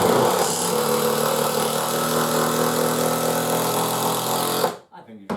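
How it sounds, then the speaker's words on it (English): A DeWalt power screwdriver drives a 4-inch screw into a lump of wood with a loud, steady, high-revving whir for nearly five seconds that cuts off abruptly, followed by a few brief clunks. "That is a powerful screwdriver."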